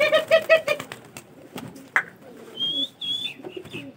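Training pigeons resting between flights coo and chirp nearby, with a few soft calls and brief fluttering sounds, fairly quiet and intermittent.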